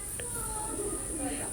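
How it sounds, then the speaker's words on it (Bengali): A cobra pigeon gives a soft, brief coo, close by, over a steady background hiss. "কোবরা কবুতর দেখেন"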